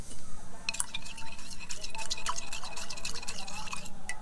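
Food colour being stirred into water in a glass, a spoon clinking and scraping rhythmically against the sides with a light liquid swish, close and steady, no voices.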